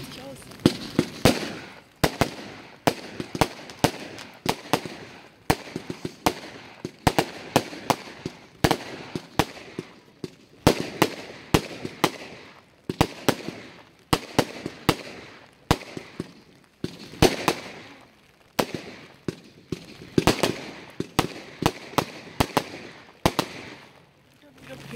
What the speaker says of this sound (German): Ein Komplettfeuerwerk mit 2 Minuten Laufzeit, 207 Schuss zu 90 Euro.